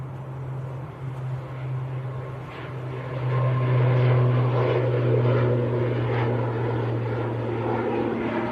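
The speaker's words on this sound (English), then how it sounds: "Logan Air on the roll." Loganair propeller aircraft on its takeoff roll at Manchester Airport, a steady droning engine hum heard from a distance that swells louder midway and holds.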